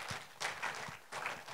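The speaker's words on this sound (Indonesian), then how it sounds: "Tepuk tangan bagi Allah kita." A church congregation in Jakarta claps for God during a sermon, with short bursts of applause rising and fading in a few uneven waves.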